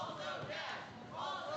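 A wrestling crowd at a New Texas Pro Wrestling show roars and chants in a loud, swelling wash of voices that dips briefly and rises again, with no clear single speaker.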